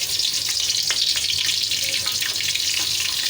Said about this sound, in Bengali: তেল গরম হয়ে গেছে, দিয়ে দিচ্ছি পেঁয়াজ